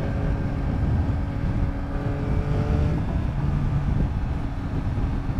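A 2021 Yamaha MT-09 motorcycle cruises on the highway, a steady engine drone under heavy, continuous wind rush and buffeting, loud and close throughout with no talk.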